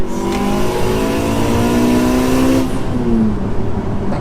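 A tuned 500bhp Honda Civic Type R accelerates hard, its loud engine note climbing steadily through the revs before a gear change, heard from close inside the car with no talk over it.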